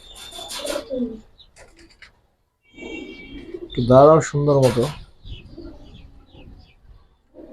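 Beji pigeons, including a hen, give a loud, close burst of cooing in the middle, with brief talk before and after and some quiet gaps.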